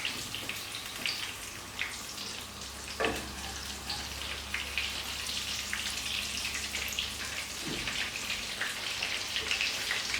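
Chicken schnitzel fries in oil over high heat, giving a continuous bubbling sizzle with crackling pops and a couple of louder spits, close and steady, with no talking.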